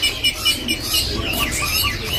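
At a bird kiosk, a pokcai mandarin bird gives bright, repeated chirps and short tweets, close and fairly loud, with soft background murmur beneath.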